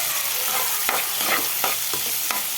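Onions frying in hot oil with bay leaf and fennel seeds for mutton liver fry, a steady close sizzle with a few soft scraping stirs of a spoon in the pan.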